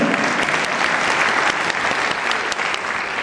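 Steady, dense applause from a live audience at a comedy juggling show, continuous and fairly loud throughout with no speech over it.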